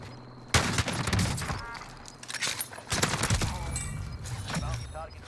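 An R9-0 shotgun loaded with Dragon's Breath rounds fires in the Warzone video game, with several loud separate blasts spaced a second or two apart and clattering noise between them.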